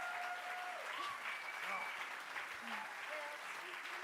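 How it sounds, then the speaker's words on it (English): Steady applause from a crowd at the Spiel des Jahres 2025 award ceremony, continuous and fairly loud throughout, with faint voices mixed in. "Another round of applause goes to the kids."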